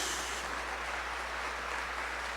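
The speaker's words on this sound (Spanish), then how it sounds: "Fuerte aplauso a Jesús" A church congregation applauds during a Palm Sunday Mass, a steady, even wash of clapping that sounds distant and fairly quiet throughout.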